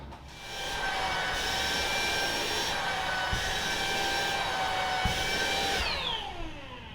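A Tineco Dash A10 cordless stick vacuum cleaner runs close up while sucking up spilled cornflakes, a steady high whirring whine with a couple of small knocks before it winds down at the end.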